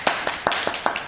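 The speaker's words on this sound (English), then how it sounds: "That's clap for everyone." Brisk round of hand claps during a Bhagavad Gita introductory class, about six sharp claps in a quick, even rhythm over one second, close and fairly loud with no talking.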